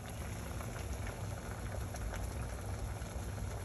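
A pot of water boiling steadily with broccoli in it, a continuous dense bubbling roar at even loudness, close and uninterrupted throughout.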